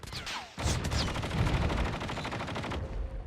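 Rapid automatic gunfire in the mobile shooter Call of Duty: Mobile during an esports match, a dense, loud burst of shots lasting a couple of seconds before cutting off.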